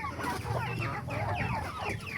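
Chickens clucking close by in a farmyard, a steady stream of overlapping short clucks and calls with no talking.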